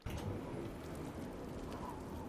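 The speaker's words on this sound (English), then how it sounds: "the soft sounds of the rain doubled in volume" Rain from the video game Witch on the Holy Night, heard as a steady, soft, even hiss of falling rain with no pauses.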